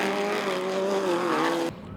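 Loud, continuous engine roar of a stadium offroad race buggy at speed during a New Zealand championship round, a steady droning pitch that cuts off abruptly near the end.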